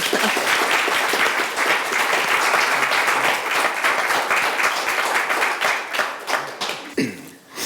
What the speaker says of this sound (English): Let's give another hand of applause